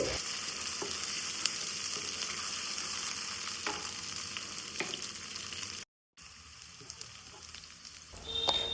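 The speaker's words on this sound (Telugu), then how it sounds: "ఇట్లా మొత్తం అల్లం వెల్లిపాయ పేస్ట్ పచ్చి వాసన పోయేదాకా మొత్తం ఆయిల్లో మంచిగా ఇట్లా ఫ్రై చేసుకోవాలి" Ginger garlic paste frying in oil, a continuous close sizzle with faint stirring, briefly cutting out before the hiss resumes, no voices.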